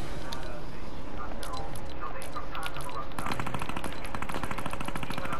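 Video-game gunfire bursts continuously in rapid machine-gun volleys, loud and dense throughout, with voices talking over the shooting.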